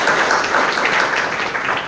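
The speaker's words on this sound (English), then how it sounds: "I would like to do a big round of applause to this young man, Shamara" Brief burst of audience applause at a panel discussion on railway electrification, dense clapping from a roomful of people, loud and steady throughout.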